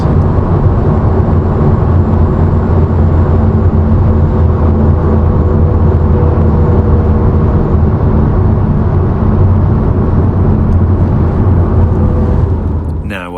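A Porsche 991.2 Carrera 4S Cabriolet with PDK gearbox on the move, a loud, steady drone of engine and road noise throughout, fading slightly at the end.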